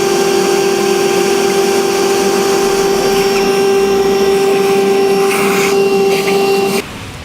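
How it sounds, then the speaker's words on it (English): A power drill spins a one-inch hole saw bit through a taillight housing on a 2015 vehicle, a loud steady whine with a strong constant tone that cuts off abruptly near the end. "we will switch out to an inch diameter hole saw bit"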